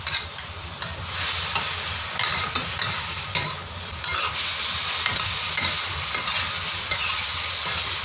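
Fried beef with sauce is stir-fried in a pan, a continuous loud sizzle with repeated scraping and clattering strokes of the utensil throughout.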